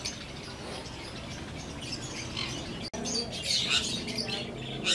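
Sun conure parrots in a bird shop, chirping and squawking in bright, busy bursts over a constant room murmur that grows louder toward the end.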